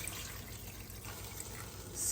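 Four cups of water pour steadily into a cooking pot in a soft, continuous stream, fairly quiet, with no voices.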